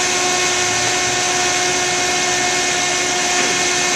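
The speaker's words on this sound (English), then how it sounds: "Look and see if that compressor starts to spin." Car air conditioning compressor spinning up under the hood, a steady mechanical whir with a constant tonal hum and broadband rushing noise, loud and close, with no talking.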